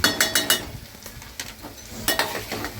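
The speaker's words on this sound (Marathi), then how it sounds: "बटाटा भाजी हलवून घेतली चांगली." A spoon scrapes and clinks against a pan while potato bhaji is stirred, a quick series of sharp metallic strokes, then a pause and a few more, close up over a faint sizzle.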